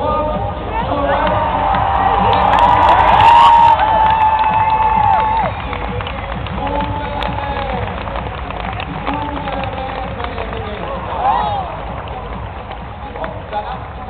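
A crowd cheers and applauds at a mounted games horse event at HansePferd 2010, swelling loudest early on and then fading into a low murmur beneath an announcer talking throughout.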